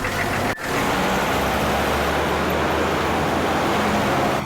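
A car engine runs steadily at close range, a continuous mid-low rumble with a brief dip near the start, with no talk over it.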